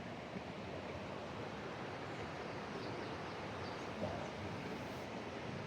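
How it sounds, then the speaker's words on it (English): Steady broadband rush of the Chattooga River flowing past a sandbar along a trail in Oconee County, South Carolina, a constant close wash of water with no voices. "I came through a turn in the trail, and here's the Chattooga River."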